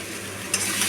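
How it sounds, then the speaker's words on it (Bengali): Fish curry masala with green chilies being stirred and fried in a pan for rohu fish curry, a brief close sizzle with a quick scraping stir partway through, no voices. "কাঁচা লঙ্কা দিয়ে ভালোভাবে মশলাটা নাড়িয়ে চাড়িয়ে কষিয়ে নিচ্ছি"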